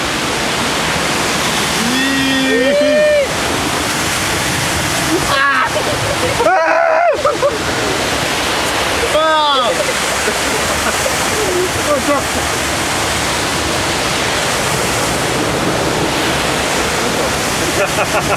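Steady, loud rush of falling water from a waterfall on the rafting ride at Fårup Sommerland fills the whole stretch, with voices shouting and calling out over the roar now and then.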